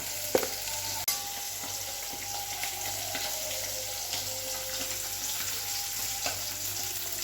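Fish sizzles steadily in a frying pan, a constant crackling hiss with a few sharp clinks and utensil knocks near the start, close and moderately loud with no talking.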